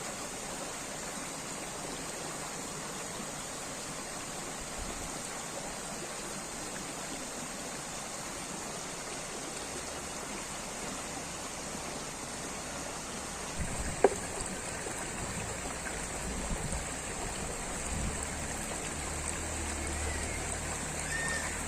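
Water in a stream where silt worms are being washed runs as a steady, quiet rush throughout, with one brief splash or knock partway through.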